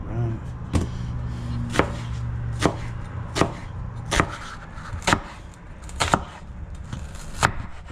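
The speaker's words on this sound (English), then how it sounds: "So once your onion is nice and chopped, we'll go to the next process" An onion is chopped into small pieces on a board with a knife, giving about ten evenly spaced, sharp, close chops over a faint steady background hum; no talking.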